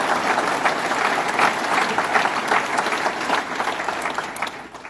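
A crowd at a Buffalo government announcement applauds Congressman Brian Higgins, a steady, moderately loud burst of many hands clapping throughout, easing off slightly at the close.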